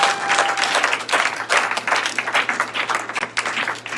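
Church congregation applauding during a Sunday worship service, a dense, sustained burst of clapping filling the room at steady loudness.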